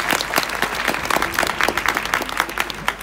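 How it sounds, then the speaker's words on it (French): Audience applause for a skater at an ice-skating gala, a steady wash of many hands clapping that continues throughout without letting up. "vous pouvez l'applaudir."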